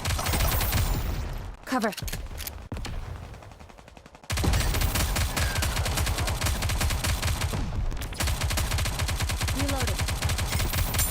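Third-person shooter gunfire from NIKKE Goddess of Victory: dense, rapid automatic bursts fill nearly the whole span, breaking off briefly around two to four seconds before resuming loudly, with a short spoken callout mixed in.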